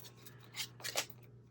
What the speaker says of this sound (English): what I'm going to do is trim these off